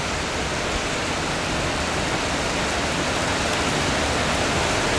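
Steady, dense rainfall in a Thai market area hisses evenly and fairly loudly throughout, with no voices or other distinct sounds breaking through.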